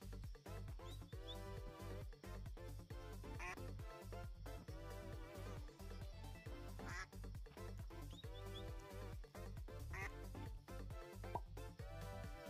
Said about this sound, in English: Capybara and a duck. Duck on the capybara.